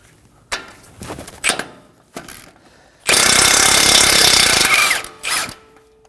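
A power tool with a 19mm socket removes a nut during bellow boot replacement on a 2017-2024 Nissan Armada, giving short loud rattling bursts, then a sustained hammering rattle for about two seconds and one last brief burst, close and alone.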